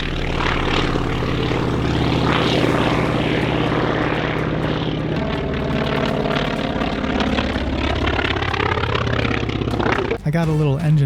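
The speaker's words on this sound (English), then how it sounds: "I got a little engine rumble on this one" Propeller airplane engine rumbling at an airshow, a steady loud drone that holds throughout and changes pitch near the end as the aircraft passes.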